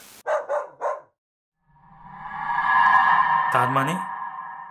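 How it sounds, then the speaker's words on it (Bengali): A dog barks from a distorted, faulty tape recorder in a horror cartoon: three quick barks up close, then a warped, droning electronic hum swells and holds, with a final garbled yelp near the end. "অদ্ভুতভাবে খারাপ হয়ে যাওয়া টেপ রেকর্ডারটার ভেতর থেকে বেরিয়ে এলো সেই কুকুরের ডাকটা"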